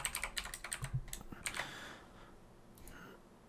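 Quick bursts of keystrokes on a computer keyboard as a username and password go in, a dense run of clicks for about two seconds, then a few fainter taps close by.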